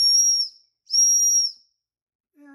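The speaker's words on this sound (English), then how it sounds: "let me see if the whistle works" A whistle built into a fixed-blade survival knife's sheath gives two loud, shrill blasts, each about half a second long, close up and separated by a short pause.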